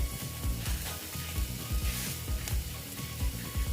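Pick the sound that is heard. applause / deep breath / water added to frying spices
water added to frying spices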